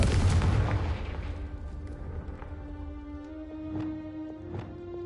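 A Confringo explosion spell goes off in Hogwarts Legacy, a heavy booming blast at the start that rumbles and decays over several seconds, with a few faint thuds and tonal game effects trailing after.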